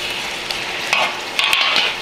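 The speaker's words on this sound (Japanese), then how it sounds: "でこれを全体をタレに絡めていきます。" Chicken pieces are stirred over high heat in a bubbling miso sauce, giving a steady loud sizzle broken by scraping and clacking from the utensil.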